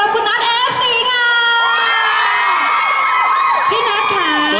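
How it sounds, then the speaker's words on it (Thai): A crowd cheers to welcome a guest with loud, high-pitched shrieks and whoops, sustained and close, with little distinct clapping. "ขอเสียงปรบมือต้อนรับคุณนัท FC ค่ะ"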